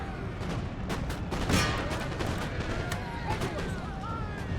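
Massed musket volleys crackle through a siege battle in Empire: Total War, a dense rolling barrage of overlapping shots with occasional heavier booms, loud and continuous.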